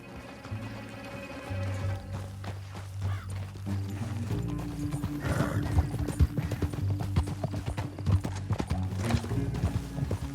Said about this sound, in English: Back on your horse. Let's get after them.